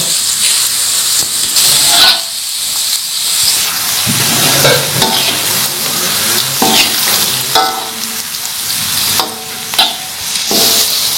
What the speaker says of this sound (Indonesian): Ini bawang merah, bawang putih udah layu, udah kuning, udah harum.